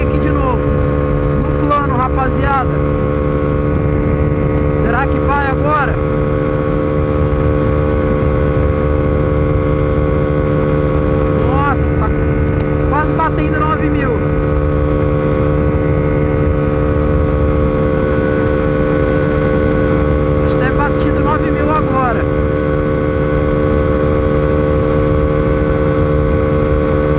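Honda Pop 120 motorcycle engine droning steadily at speed with a strong humming tone, overlaid by rushing wind, while someone talks intermittently over it.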